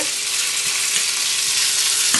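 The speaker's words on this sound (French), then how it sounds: "On va les mettre dans la poêle." Leftover cold pasta sizzles and fries in a hot pan as it is reheated and lightly browned, a steady close crackling hiss with no talk over it.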